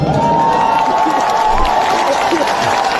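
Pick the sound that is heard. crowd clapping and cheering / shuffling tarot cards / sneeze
crowd clapping and cheering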